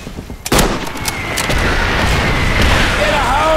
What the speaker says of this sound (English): Oh, northwest tank. Coordinates confirmed. Firing!